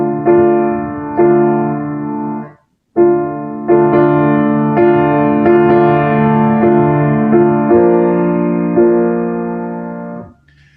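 Gounod choral music with inverted chords, sustained harmonies swelling and changing in slow, floating steps, broken by one brief pause early on.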